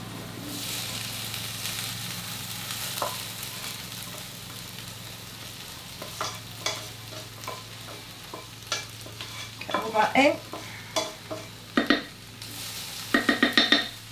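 Vegetables hiss and crackle in a hot slow cooker while a spoon scrapes and stirs, getting busier toward the end; a voice speaks briefly.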